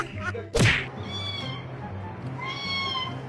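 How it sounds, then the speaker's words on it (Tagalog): A cat, seemingly trapped, meows loudly twice, once near the start and again about two seconds later, with a sharp thump close by just before the first cry. "kawawa naman yung pusa na nakaipit sa dyan"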